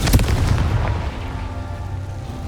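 A Confringo spell bursts in Hogwarts Legacy with a loud, close, deep boom at the start that fades into a low rumbling tail, with no talk.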